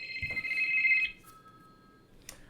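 A phone rings with an incoming call, a steady electronic tone lasting about a second that then thins into a fainter lingering tone, heard indoors at moderate level with no talk over it.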